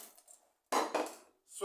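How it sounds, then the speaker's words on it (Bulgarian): Dry macaroni pours into a cooking pot in two loud rattling bursts after a quiet pause, with a softer clatter at the end. "Изсипвате макароните в тенджерка"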